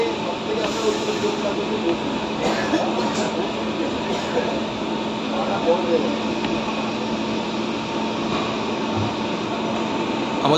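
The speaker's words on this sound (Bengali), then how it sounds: "আমাদের নির্ধারিত সময়ে 6:20 থেকে 5 মিনিট লেটে ট্রেন যাত্রা শুরু করলো" Barbil Janshatabdi Express (12021) pulling out of Howrah on its way to Kharagpur: a steady, dense rumble of rail and carriage noise throughout, with passengers' voices mixed in.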